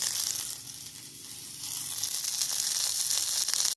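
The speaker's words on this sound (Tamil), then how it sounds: "அது கூடவே கருவேப்பிலை, சில்லி ஃப்ளேக்ஸு போட்டு நல்லா வதக்கிக்கலாம்." Cumin, carom seeds, curry leaves and chilli flakes sizzle in hot oil for radish paratha filling, a close, bright, continuous frying hiss that swells slightly toward the end, with no voices.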